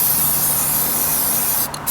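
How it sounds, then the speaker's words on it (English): A brand new aerosol spray paint can sprays steadily in a continuous close hiss, briefly interrupted near the end, with no talking. "There's so much overspray with spray paint."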